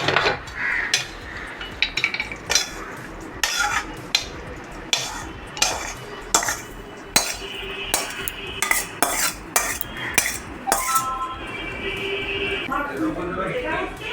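Flattened rice poha being stirred in a pan with a spoon, giving repeated scraping and clinking strokes of metal on the pan, fairly close and steady throughout, with a voice talking over parts of it.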